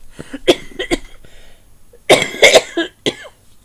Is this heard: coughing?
yes